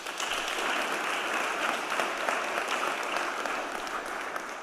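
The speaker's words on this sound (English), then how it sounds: "We'll clap it out for you." Audience at a survivors' awareness panel on Long Island applauding a speaker, a steady wash of many hands clapping that stays level for several seconds with no voices over it.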